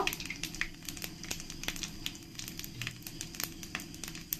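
Cumin and whole spices drop into hot oil for a mutton curry, giving a close, dense crackle of rapid pops and spits that continues steadily throughout.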